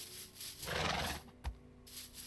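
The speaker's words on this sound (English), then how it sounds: "God damn it, horse!" A horse in the Mage Renaissance modpack of a block-building video game gives a short, faint whinny, a brief breathy rise and fall lasting about a second, heard alone and quietly.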